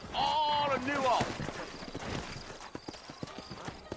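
Horse hooves clip-clop in Red Dead Redemption, a rhythmic run of hoofbeats under a horse's whinny and a man's speech, with scattered footfalls continuing more softly through the rest.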